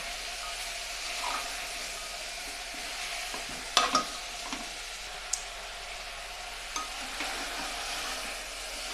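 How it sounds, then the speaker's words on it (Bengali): Chicken stew with beans, tomato and onion sizzles steadily in a pan as it is sautéed, a continuous close frying hiss broken by a few sharp scrapes and clinks of a spoon stirring. "আমি আরও তিন মিনিট কষে নিয়েছি"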